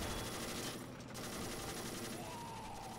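Machine gun fire from tanks in a World War II Afrika Korps video game battle, rapid continuous bursts crackling at a distance in a dense, steady stream with no speech.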